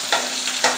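Garlic and green chillies tempering in hot oil, a steady crackling sizzle with two brief louder bursts of spitting or stirring.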